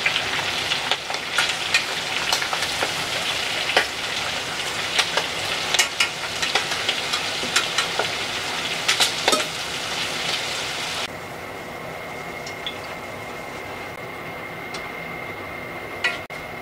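Small shrimp tempura fry in hot oil over raised heat, a dense continuous crackling sizzle with sharp pops and occasional clicks, loud and close, then thinning to a quieter, steadier bubbling hiss near the end.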